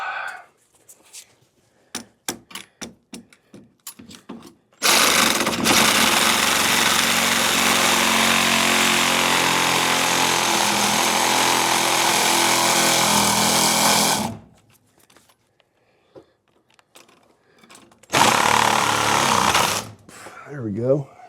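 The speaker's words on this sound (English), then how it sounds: "Now I gotta cut this side with the Sawzall." A reciprocating saw rasps loudly and steadily through the subframe of a 1967 Camaro for about nine seconds, then cuts again in a shorter burst, with clanks and brief talk in the pauses between cuts.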